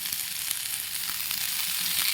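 Chopped tomatoes go into a pan of browned, sizzling fried onions, producing a steady, close hiss of frying with faint stirring clicks and no talk.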